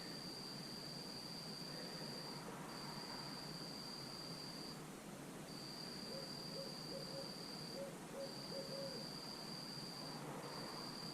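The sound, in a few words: owl hooting outside at night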